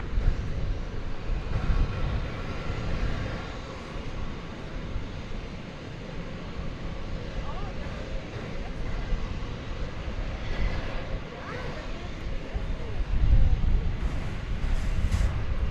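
An American Airlines jet, Flight 35 heavy bound for New Zealand, departs DFW airport at night, a broad, steady low engine roar heard from a distance that swells slightly toward the end, with no voices.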